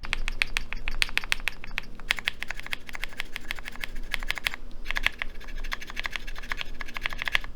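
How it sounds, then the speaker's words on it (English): Mechanical keys on a MODE Eighty TKL custom keyboard clatter in steady rapid bursts, the left-side keycaps scraping against the top case, close and loud with a brief pause midway. "The keycaps on the left side of the keyboard were scraping against the top case"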